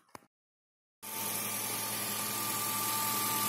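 A Ford Mondeo with a 2.0 Duratec-HE petrol engine starts after a short knock and a second of silence, then idles with a steady, even hum that carries on to the end.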